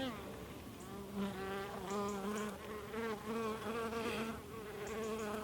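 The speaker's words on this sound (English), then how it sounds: "these are the bees that I've got out of an old oak tree" Honey bees from a colony rescued out of a fallen old oak tree buzzing at the hive entrance, a dense continuous swarm drone with individual bees passing close, moderately loud throughout.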